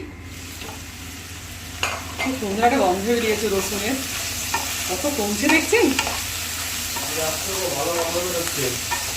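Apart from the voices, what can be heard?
broccoli and onion stalks frying in a pan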